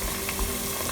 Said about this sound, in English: so while your tofus are frying